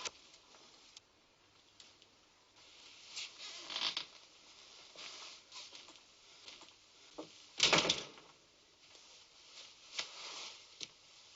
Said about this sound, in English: Open the door, will you?